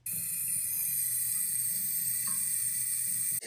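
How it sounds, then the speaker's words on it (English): An irrigation sprinkler valve leaking at a residential system gives a steady, close hiss that holds evenly throughout with no talk, then cuts off abruptly at the end. "That's the sound of what an actual leak sounds like."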